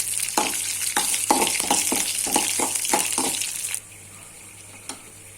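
Peanuts, green chilies and curry leaves fry in hot oil with a loud, close sizzle and rhythmic stirring scrapes, then the noise drops abruptly to a faint hiss with one last clink.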